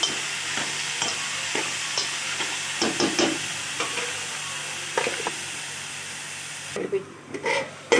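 Food stirred in a cooking pot over the heat, a soft sizzle under repeated scraping strokes of a spoon against the pot, with a few louder clatters near the end.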